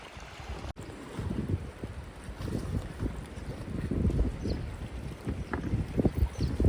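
Strong wind gusts at a riverside camp by the Mahisagar river near Vanakbori dam, a rough, rumbling buffeting on the microphone that swells and rises toward the end, with no talk.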